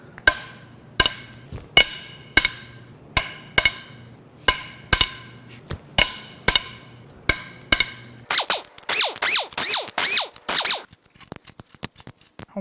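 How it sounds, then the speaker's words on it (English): Cylinder head bolts on a Subaru EJ20X turbo engine cracked loose with a wrench, about fourteen sharp metallic snaps in a steady rhythm, close and loud, followed by a few seconds of quicker ratcheting clicks. "Now, we'll crack these head bolts loose."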